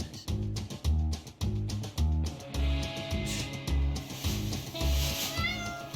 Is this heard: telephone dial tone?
no